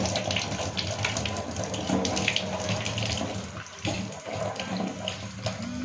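Pieces of cut snake gourd rinsed by hand under a running tap, steady gushing water with splashes and sloshing near the microphone, a voice faintly present at times.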